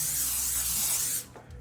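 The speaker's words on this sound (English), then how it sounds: "So you do want to spray the pan." A can of cooking spray hisses onto a cake pan in one loud, sustained burst lasting just over a second. It cuts off abruptly and is followed by a faint room tone.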